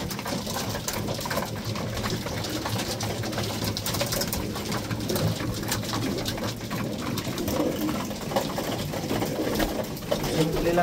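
Pet pigeons cooing at feeding time, a steady murmur of coos with mixed outdoor noise, and faint human voices now and then underneath.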